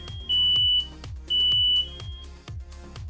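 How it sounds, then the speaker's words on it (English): A mains-powered smoke alarm from a wirelessly interconnected domestic fire alarm system sounds during a test, giving loud repeated piercing beeps in a steady pulsing pattern alongside a lower rhythmic tone, with no talking. "pressing the Test button on each device in turn to see if all other devices sound"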